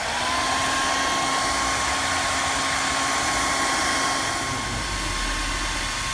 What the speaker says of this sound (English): So he brought out a hair dryer or a heat gun.